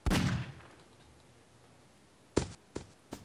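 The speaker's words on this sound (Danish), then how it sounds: "Jeg har fået fyrværkeri" Fireworks in Garry's Mod: one loud close burst with a decaying tail, a quiet lull, then three sharper pops spaced apart, with no talk.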